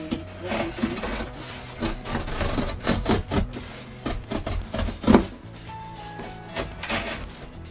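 A utility knife blade cuts through cardboard for a furniture build in a series of short, repeated scraping strokes, close and uneven in rhythm, with no talking.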